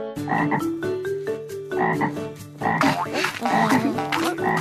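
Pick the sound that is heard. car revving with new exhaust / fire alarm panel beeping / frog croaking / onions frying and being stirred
frog croaking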